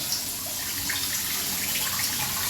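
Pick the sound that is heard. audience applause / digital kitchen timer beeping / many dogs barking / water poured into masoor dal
water poured into masoor dal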